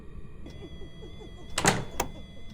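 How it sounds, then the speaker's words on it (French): A door shutting in the ghost-hunting game Phasmophobia: two sharp wooden knocks close together near the end, the first heavier, over faint ambient hum and low background noise. "Elle a fermé la porte derrière moi."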